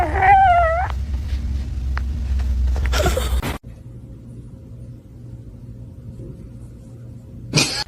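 A cat with its head stuck in a chair lets out a few strained, wavering meows at the very start, followed by a low rumbling and shuffling, then near-silence, and a sudden sharp rustle at the end.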